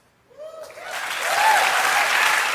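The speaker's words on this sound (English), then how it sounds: "And the crowd goes nuts." A live crowd at a talk bursts into loud, building applause mixed with whoops and cheering, swelling from a few shouts into sustained clapping that fills the room.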